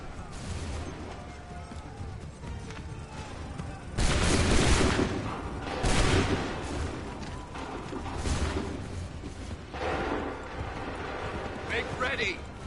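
Musket volleys in Assassin's Creed 3, loud bursts of massed gunfire landing at about 4, 6, 8 and 10 seconds over a background of battle noise and shouting voices.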